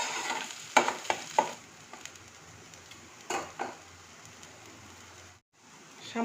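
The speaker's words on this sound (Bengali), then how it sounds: "একটু লবণ, এবার এটাকে ভালো করে মিশিয়ে নেব মশলার সাথে।" Fish fries with spices and salt in a pan under a soft continuous sizzle, with a few sharp scraping clatters as a spoon stirs and mixes it.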